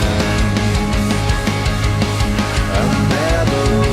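Full-band drum kit, recorded in an empty room, plays steady loud hits with booming low end and bright cymbal wash throughout, no voices.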